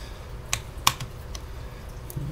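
Several crisp key presses on a Cherry MX 10.0N RGB low-profile mechanical keyboard with Cherry MX Speed switches, scattered, close and fairly quiet over a faint low background hum.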